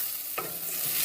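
Onions sizzle in a frying pan as a utensil scrapes and stirs once through them, a soft steady frying hiss close by with no talking.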